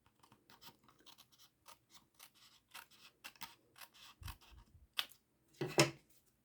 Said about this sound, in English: use our snips and just follow right along the edge of the cardstock to cut the DSP